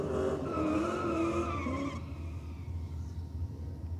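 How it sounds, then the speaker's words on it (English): A race car does a burnout at a drag strip, tyres skidding and engine roaring loudly and steadily throughout, the squeal easing slightly after the first couple of seconds. "Big burnout from a racer in the Aeroflow lane"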